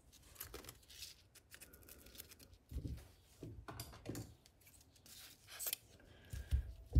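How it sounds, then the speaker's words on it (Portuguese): Scissors snip through satin ribbon about 2.5 cm wide in a few short, close cuts, with soft rustling and handling of the fabric between them. "você pode cortar uns 40 centímetros de cetim"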